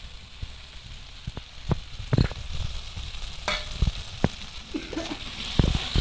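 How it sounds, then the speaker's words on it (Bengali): Potato pieces and tomato fry with spices and salt in a pan. A steady sizzle runs throughout, broken by scattered sharp clicks and scrapes of a spoon stirring. No one speaks. "এবার আলুটা ভালো করে আলু আর টমেটো মশলার সঙ্গে একটু কষিয়ে নেব"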